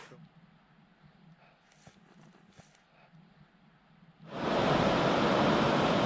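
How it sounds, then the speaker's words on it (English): At a rocky trail crossing, creek water flowing over rocks starts out faint behind a few soft clicks and steps, then swells abruptly into a loud, steady rushing wash for the last couple of seconds. "Here we have a rock creek crossing"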